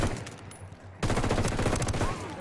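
Gunfire from Ghost Recon Wildlands: a burst of rapid shots, a brief lull, then a loud sustained stream of automatic fire, close and dense.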